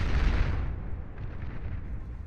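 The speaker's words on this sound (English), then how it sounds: "Hounds firing away here as well." Hound units in the real-time strategy game Beyond All Reason fire, giving a heavy booming artillery-like blast that rumbles, fades, then is followed by softer distant thuds and crackle.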